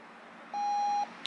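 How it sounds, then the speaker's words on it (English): A single soft electronic power-on beep from a 3M Peltor ProTac II hearing protector sounds for about half a second in a quiet room, followed by a faint click. "there was the small beep"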